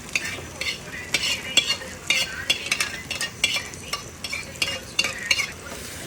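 Fried ivy gourd stirred together with sautéed onion and tomato in a pan for a spicy South Indian kuzhambu, with rapid repeated spatula scrapes over a continuous sizzle, close and fairly loud.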